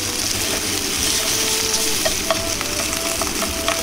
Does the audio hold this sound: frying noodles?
yes